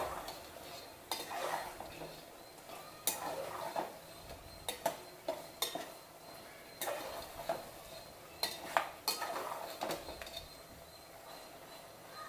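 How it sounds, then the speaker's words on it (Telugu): A spoon stirs thick ground masala paste into country chicken curry in a pot, giving repeated scraping knocks against the metal, fairly close and steady, with no talking. "వేసేసి ఒకసారి బాగా కలియబెడదాం."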